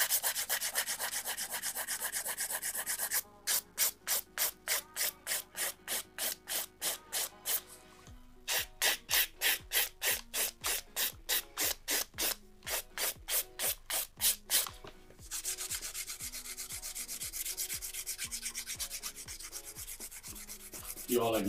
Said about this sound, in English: I want to go over the entire nail with this 180 grit file